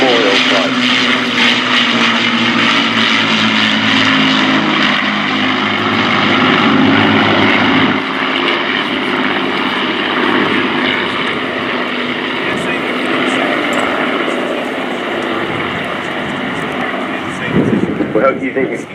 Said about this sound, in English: the Lancaster Hurricane and Spitfire come past the BDMS Memorial Flight